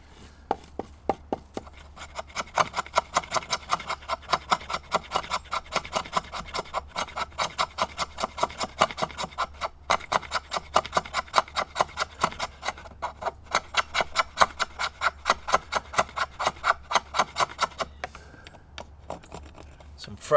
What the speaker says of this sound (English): I'm going to use both knives just to scrape the ferro rod, get my tinder bundle started and see how it goes